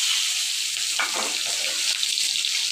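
Onion hitting a hot frying pan after fish has been fried, giving a steady close sizzle with a brief louder crackle burst near the middle.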